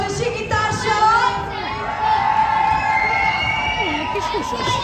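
A large crowd at a Hungarian village festival cheers and screams loudly and continuously, a sustained roar with shrill high-pitched shrieks rising above it throughout.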